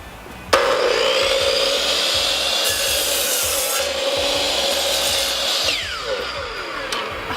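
A hand saw cuts through a wooden 2x4 in one long continuous rasping stroke, close and loud, starting abruptly and easing off near the end.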